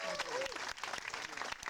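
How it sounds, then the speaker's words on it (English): An audience at a Memorial Day celebration in Smith Park claps for veterans, a dense wash of applause with a few sharper individual claps, while a voice carries over the crowd. "giving them a round of applause"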